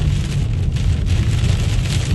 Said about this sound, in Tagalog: Lumakas naman yung ulan.